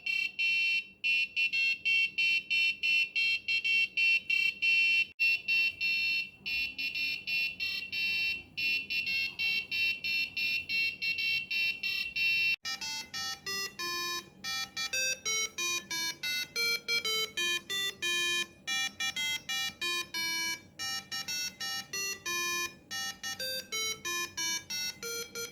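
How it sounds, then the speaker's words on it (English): An Arduino-driven piezo buzzer beeps out the Happy Birthday melody as a string of loud, shrill electronic tones, one note after another, heard alone and continuing for the full length. "Now we are able to hear the same song on the buzzer."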